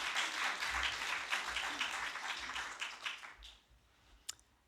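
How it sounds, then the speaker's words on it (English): An audience at a college event in Glasgow applauds a panel, steady massed clapping heard from some distance that fades away, followed by a single sharp click near the end. "can we get a big round of applause, please, for our panel"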